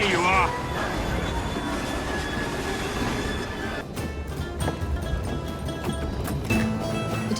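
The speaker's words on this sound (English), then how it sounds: "at least we have a train now" Train in an Assassin's Creed Syndicate cutscene: steady rumbling rail noise with clattering and a brief high wheel squeal, continuous and fairly loud, with a voice briefly heard near the start.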